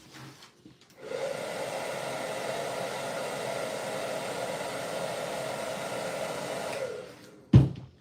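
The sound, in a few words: heat gun blowing hot air on puppet vinyl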